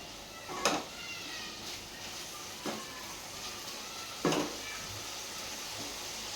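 Onion and garlic frying in oil in a pan, a soft continuous sizzle with three brief stirring clinks against the pan spaced across the stretch.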